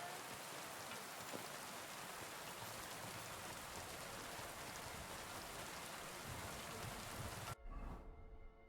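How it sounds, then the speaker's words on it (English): Steady rain pours in a video game menu, a dense, even wash of falling drops that holds constant for several seconds before cutting off abruptly near the end. "I don't like how the rain is in the menu."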